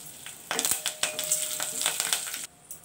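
Asafoetida, two dried red chillies and curry leaves sizzle in hot oil in a pan, a crackling spit that flares up after a quiet start, carries on steadily and then briefly dips before picking up again.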